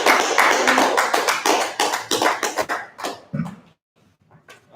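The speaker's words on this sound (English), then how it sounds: "Let's clap it up." A small group claps for an online Hebrew language class, producing a burst of sharp, dense claps that gradually thin into scattered, uneven taps before a near-silent pause and a few final faint claps.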